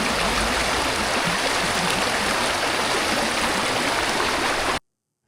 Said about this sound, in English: the running water, it's great and wonderful